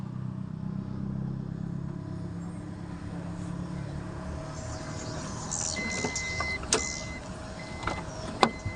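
The power sliding door of a 2010 Toyota Alphard G 2.4 automatic hums as its motor runs for several seconds, then a few clicks and a latching clunk follow at the end.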